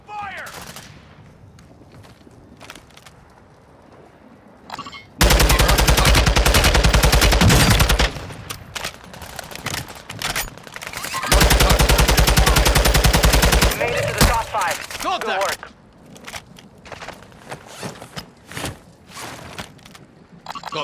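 Heavy bursts of automatic gunfire in the video game Call of Duty: Modern Warfare II, two long, loud sustained volleys with quieter shots and footsteps between them, while voices call out over the fighting.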